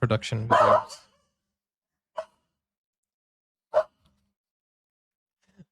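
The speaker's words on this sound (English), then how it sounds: "That's my dog." Someone speaks briefly, then a few short, separate dog barks or yips sound at a moderate distance with quiet gaps between them.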